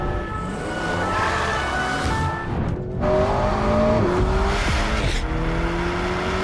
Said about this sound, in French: une Alpine de gendarmerie en train de faire de la glisse sur route ouverte